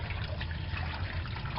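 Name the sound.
water running while rinsing lima beans in sink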